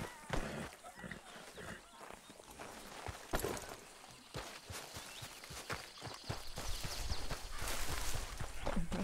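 Horse hooves clip-clop in Red Dead Redemption 2, a steady walking rhythm of close, fairly loud hoofbeats that picks up and grows busier toward the end.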